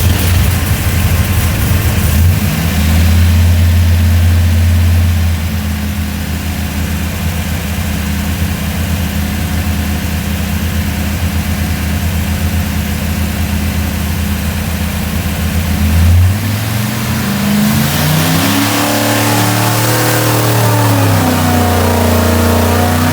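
A 580-horsepower small-block Mopar V8 roars steadily at high rpm on a dyno, loud and continuous, then drops and swells through a couple of rev sweeps near the end.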